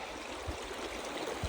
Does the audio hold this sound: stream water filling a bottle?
yes